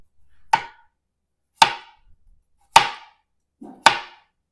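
Four sharp, evenly spaced knife chops slice potatoes on a Val Cucina cutting board, each a crisp thud with a quick ring, separated by near silence.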